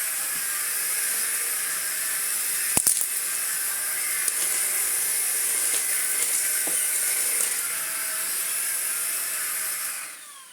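A Bosch Unlimited cordless vacuum cleaner runs steadily with a loud, hissing whine that holds for about ten seconds, broken by a brief clatter of debris near the three-second mark, then powers down at the end.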